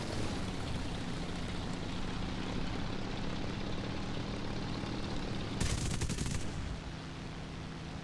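A P-38K's engine drones steadily and loudly throughout a flight combat game, with a short, sharp burst of gunfire rattling out near the end before the engine tone drops slightly.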